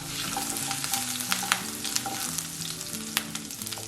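Chopped ginger and garlic stir-frying in a hot pan for a Kerala-style beef pepper roast: a steady close sizzle broken by repeated scraping and clanking stirs, with no talking.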